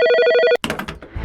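A telephone bell rings in a rapid repeating trill for about half a second, then cuts off into a few clicks and clatter as if the receiver is lifted.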